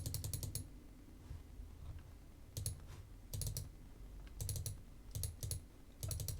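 Typing on a computer keyboard, short bursts of rapid, close keystrokes separated by brief pauses, over a faint steady hum.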